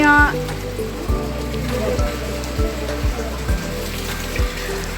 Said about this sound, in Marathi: इथे हे गोमुखातून पाणी येत आहे